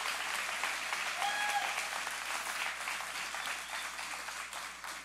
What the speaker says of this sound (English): we give Andy Caldwell a round of applause